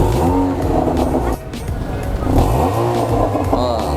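A Honda HR-V engine revved with its exhaust in standard sound mode, rising and falling through a couple of throttle blips up close, with people talking over it.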